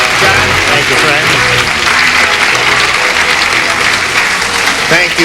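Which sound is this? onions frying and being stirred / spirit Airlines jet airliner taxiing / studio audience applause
studio audience applause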